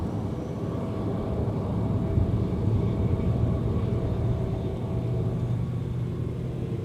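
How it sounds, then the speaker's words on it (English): A United Airlines Airbus A320 taxiing out toward runway 17 for departure, a steady low engine rumble that stays fairly constant and moderately loud throughout, with no voices. "Taking up the rear of this trio of jets headed out to 17 for departure, United Flight 576."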